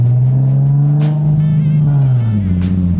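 Car accelerating hard through the gears, a loud, close engine drone rising in pitch with a shift dip near the end, no talking.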